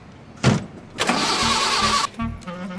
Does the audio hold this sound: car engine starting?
yes